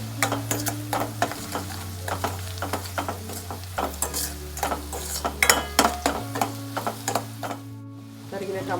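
Fried onion with turmeric, chili powder and salt sizzles in a pan while a spoon scrapes and stirs it in steady, repeated strokes, with a low background hum and occasional clinks of metal.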